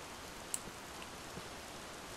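Steady rain hisses softly in the video game Minecraft, an even wash of patter with a few faint drop ticks, no voices.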